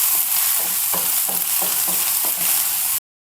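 Onion, garlic and green chilli with cumin sautéing in a pan, a steady loud sizzle broken by regular scraping stirs about every half second, ending abruptly.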